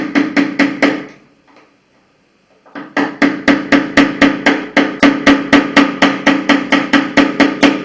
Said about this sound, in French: Ensuite, avec un gros tournevis, pareil, vous tapez doucement dessus.